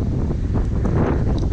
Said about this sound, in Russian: Еще ветер разыгрался